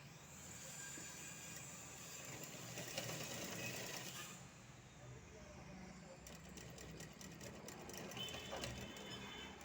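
A sewing machine runs a straight stitch on fabric in a steady, continuous mechanical drone with a constant hum throughout, moderately close, while a voice talks faintly at times.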